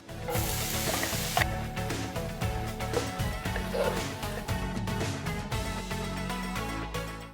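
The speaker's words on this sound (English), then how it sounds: "Let's start stir frying our noodles." Steady, loud sizzling of egg noodles stir-frying in hot oil, with scraping and clinking of a utensil stirring the pan throughout.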